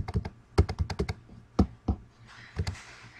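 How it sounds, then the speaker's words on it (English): Computer keyboard typing comes as irregular bursts of crisp, close key clicks and taps, some in quick runs and others spaced out, with no talking. "Let's say you are typing"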